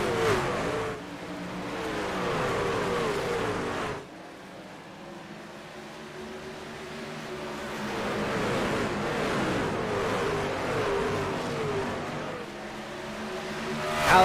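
Racing trucks roar around virtual Bristol Motor Speedway in an iRacing truck series race, a steady dense engine drone with swelling passes and a brief quieter dip partway through.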